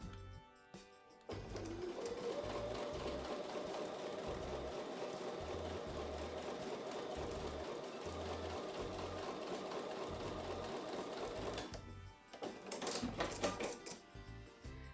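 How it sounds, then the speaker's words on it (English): Sewing machine stitching quilt block pieces with a quarter-inch seam, running in one steady rapid whir for about ten seconds, with brief stops and a short burst of stitching near the end. "So I'm going to take it to the sewing machine and sew those again with a 1/4 inch seam"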